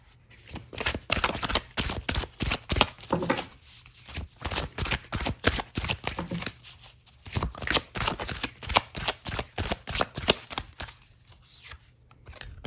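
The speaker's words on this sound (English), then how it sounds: "I want to pull a few oracle cards here." A deck of oracle cards is shuffled by hand in repeated riffling bursts, with rapid flicking and brief pauses between rounds, close and clear, with no talking.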